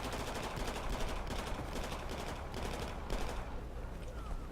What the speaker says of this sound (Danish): jeg får et chok hver gang nogen skyder.